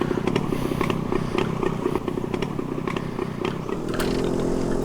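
Motorcycle engine in the driving game The Long Drive, a continuous buzzing drone that stays fairly loud and steady, with a brief rise in pitch near the end and light mechanical clatter, no talk.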